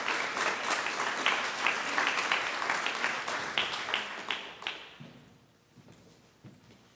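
Lecture audience applauding student scholars at the Sid Easley Lecture, a dense round of clapping that tapers off into a few scattered claps and faint room noise.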